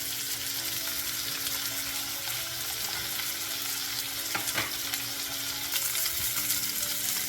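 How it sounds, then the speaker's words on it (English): Seasoned salmon steaks fry in a pan with a steady, close sizzle and crackle of hot oil, with no talking over it. "And we're just going to pop these in and we're going to cook them for about 2 minutes each side."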